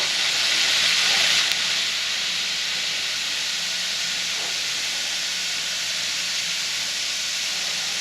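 Deer tenderloin searing in butter in a pan with an uneven bottom, a loud, steady close hiss of sizzling fat throughout.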